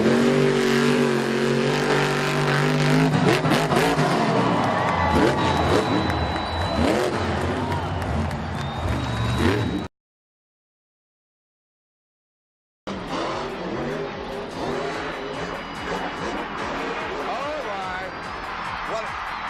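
A Monster Jam monster truck engine roars and revs loudly during a big air run at a World Finals stadium event, with crowd noise and commentary over it and a short dead gap midway.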